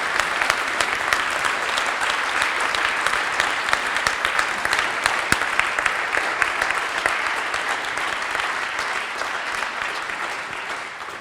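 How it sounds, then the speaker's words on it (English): Sustained audience applause at a quantum technology lecture event, a dense, steady wash of many hands clapping for about eleven seconds, loud and even with no talk over it. "we give an extra applause"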